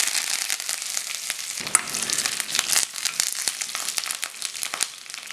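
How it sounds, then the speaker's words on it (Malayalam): Mustard seeds, dried red chillies and curry leaves hit hot oil for a pineapple pachadi tempering, giving loud close sizzling with frequent sharp pops and crackles throughout. "കടുക് പൊട്ടി വരുമ്പോൾ അതിലേക്ക് 2-3 വറ്റൽ മുളകും അല്പം കറിവേപ്പിലയും കൂടെ ചേർത്ത് കൊടുക്കാം"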